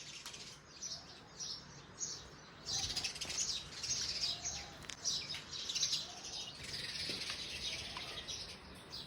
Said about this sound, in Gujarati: શાંત વાતાવરણની અંદર માત્ર ને માત્ર પક્ષીઓનો અવાજ જ સંભળાતો હોય, એનો કલરવ.